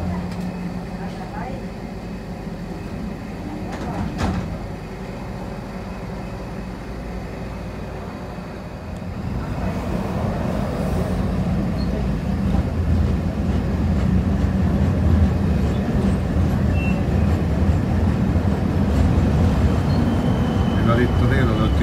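A rural single-track tram rumbles along its line with a steady low rolling drone and occasional clanks, the noise swelling louder partway through as the ride continues.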